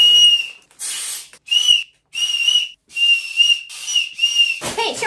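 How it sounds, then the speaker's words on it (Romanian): Shrill, piercing whistling blown through a tiny toy butterfly whistle, sounded in a string of short repeated toots with brief gaps between them, close and loud. "eu am câștigat un fluture prin care poți să fluieri"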